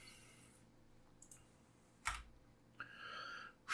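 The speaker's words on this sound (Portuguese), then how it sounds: "A gente só precisa apertar o Enter para continuar." Keys on a computer keyboard, including the Enter key, are pressed in a quiet room: a few isolated, fairly faint clicks spaced out over several seconds, with no talking.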